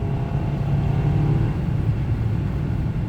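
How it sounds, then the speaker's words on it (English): Engine of a Volkswagen Eos rising in revs after a single downshift while driving, a steady loud rumbling drone heard from inside the car with no talk. "Just down one. And it instantly raises up the RPMs."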